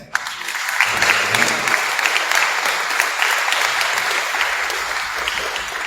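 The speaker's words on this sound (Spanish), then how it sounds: "Quiero por un aplauso para Brenda." Audience applause at an architecture and philosophy lecture, a dense, sustained round of clapping that swells quickly and holds steady, loud and close, with no voice over it.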